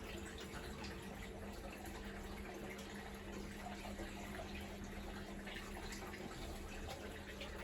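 Water drains steadily out of an Indesit IWDC6125 washer-dryer with a fault, a constant rushing, gurgling flow with a low pump hum underneath, close and unbroken throughout.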